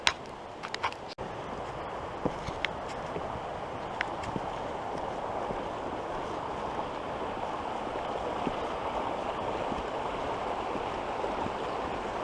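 The Tromaret brook near Malmedy flows beneath a hiking footbridge with a steady, full rushing murmur, broken only by a few faint knocks and clicks near the start.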